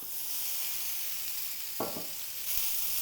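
Spaghetti stir-frying in a pan over the heat, a steady close sizzle and hiss running throughout, with a couple of brief scraping stirs toward the end.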